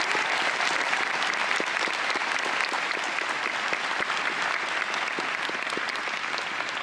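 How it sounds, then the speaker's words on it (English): Audience applause at a graduation ceremony, a sustained, even roar of many people clapping in a large room, moderately distant and continuous throughout. "First, join me in applause, please, for Miss Alexis, Terry, and Fern Hecker"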